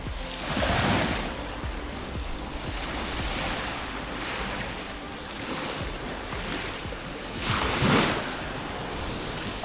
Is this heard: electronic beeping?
no